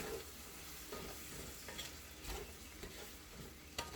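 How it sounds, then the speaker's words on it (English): Salted onions and celery sauté in a pan for bread stuffing, with a faint, steady sizzle broken by soft spatula stirring scrapes and taps. "I just cook this until it all gets nice and sauteed"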